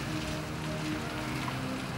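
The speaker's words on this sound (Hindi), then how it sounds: "बहुत बारिश हो रही है।" Heavy rain pours steadily outdoors as a constant, dense broadband hiss with no gaps, close and fairly loud, with no voices over it.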